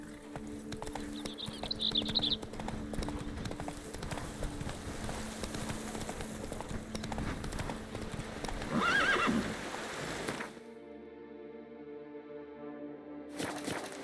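In The Witcher 3, a horse's hooves clip-clop in a fast, steady gallop, with a whinny partway through, before the hoofbeats give way to a quieter tonal backdrop.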